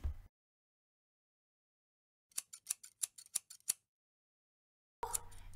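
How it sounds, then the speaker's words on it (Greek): Scissors cut into a cardboard box being made into a toy castle, about eight crisp, evenly spaced snips in quick succession, close and isolated against silence. "Άμπρα κατάμπρα, ψαλίδι ξεκίνα!"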